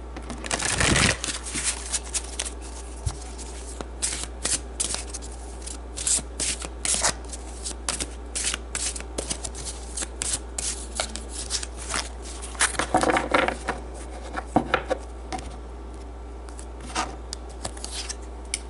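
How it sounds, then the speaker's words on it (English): Tarot cards are shuffled by hand in repeated riffling and sliding bursts, close and moderately loud, with short pauses between flurries and no talking. "Okay, I'm gonna pull 2 more cards"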